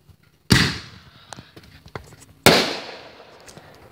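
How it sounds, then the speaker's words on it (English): Two sharp, loud fireworks mortar blasts from a backyard display, spaced about two seconds apart, each followed by a crackling decay with a few smaller pops between them. "my parents are shooting off fireworks"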